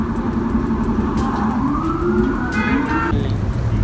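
Police car sirens wailing on a street, rising and falling tones layered over steady traffic rumble, fairly close and continuous throughout.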